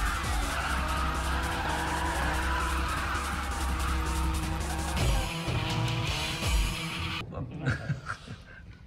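Nissan 370Z fitted with an HKS exhaust driving hard, a loud continuous engine and exhaust roar with tire noise, easing and turning rougher toward the end.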